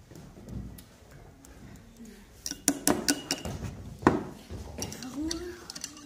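A spoon stirs salt into a glass of water, giving close, bright clinks and taps against the glass in a quick irregular run. Children talk in Dutch nearby.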